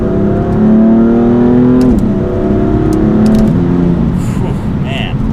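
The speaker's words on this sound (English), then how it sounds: "So then another acceleration now." BMW M4 Competition accelerating hard through rising engine revs with a gear shift midway, loud and close from inside the car, with a brief lull before the revs climb again.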